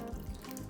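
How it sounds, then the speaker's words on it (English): Stock is poured into shrimp and crawfish seafood cornbread dressing, a steady close liquid stream with soft splashing, brief and moderately loud, with no voices. "So I've got my stock. I'm just gonna start pouring it in here."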